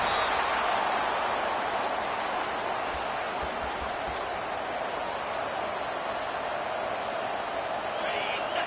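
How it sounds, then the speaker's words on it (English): A football stadium crowd roars loudly for its defense, a dense, unbroken wall of noise that holds steady from start to finish. "It is getting loud as this crowd tries to help its defense."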